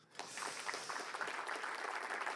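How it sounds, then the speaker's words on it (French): An indoor conference audience applauding panel speakers: dense, even clapping from many hands that starts abruptly and holds steady throughout. "je crois qu'on peut les applaudir."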